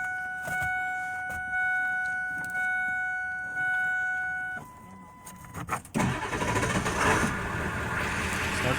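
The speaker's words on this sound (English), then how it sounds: "I was thinking that I wanna start my dad's new truck" A new Ford diesel pickup truck, an F250 or F350, sits with steady electronic chimes before the starter cranks and the engine catches, settling into a loud, rough idle close by.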